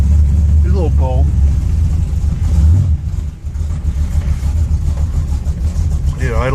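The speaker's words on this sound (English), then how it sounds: "It idles in gear even when it's cold." A cold car fitted with a TCI 3000 rpm stall converter and a faulty transmission idles in gear on a rainy day, producing a loud, deep rumble that dips briefly midway, with speech over it.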